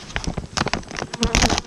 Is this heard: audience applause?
no